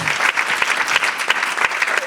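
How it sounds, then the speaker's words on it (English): Brief burst of audience clapping at a panel on Israeli border communities, loud and fairly dense with individual claps standing out, lasting about two seconds. "So you can clap your hands."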